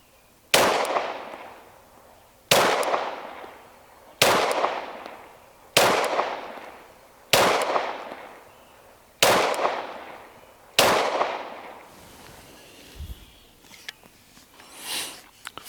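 Seven sharp 9mm pistol shots from an FN FNS-9 Longslide with a 5-inch slide, evenly spaced about every second and a half, each loud crack ringing out briefly; faint handling noise follows.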